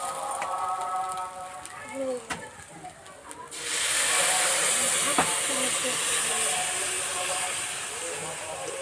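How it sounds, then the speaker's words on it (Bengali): Milk poured into a pan of fried potatoes sets off a sudden loud hiss midway that keeps sizzling steadily, following a quieter stretch of faint kitchen clatter. "আলু ভাজা হয়ে গেছে, এবার দুধ দিয়ে দেবো।"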